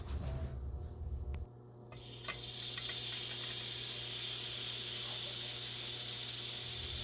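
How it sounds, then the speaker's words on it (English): Salmon sizzling in a hot pan on the stove, a steady bright hiss that rises after a brief quieter moment and holds, with a low hum beneath and no talking. "Let's move on to get the salmon sizzling."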